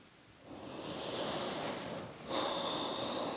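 Soft, natural breathing during a restorative yoga session, a slow drawn breath followed by a gentle airy exhale, quiet and close with nothing else heard.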